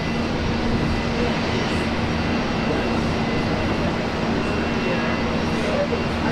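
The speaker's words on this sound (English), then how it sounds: "This one's Qantas Link 1903 heading off to Canberra with the E190." A Qantas Link Embraer E190 jet takes off at Brisbane Airport, a steady broad engine roar at middle distance, with a person talking over it.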